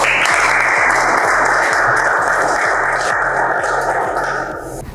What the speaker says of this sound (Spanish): Muchísimas gracias por sus aplausos